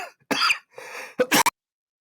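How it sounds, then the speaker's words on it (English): Several harsh coughs in quick succession, close and loud, with a throat-clearing rasp between bursts. "I'm so red from coughing now"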